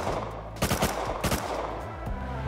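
An MLRS rocket barrage strikes in the Rust video game: two loud clusters of rapid blasts, each a few quick bangs in succession, over a constant low rumble.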